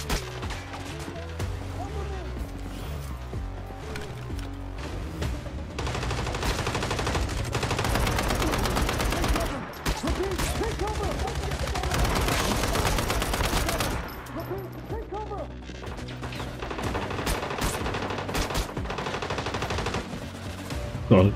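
Sustained automatic gunfire and bursts of shots in the survival shooter Once Human, loud and dense for most of the stretch, with a player's voice talking over the shooting.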